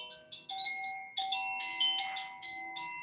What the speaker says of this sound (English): we use beautiful wind chimes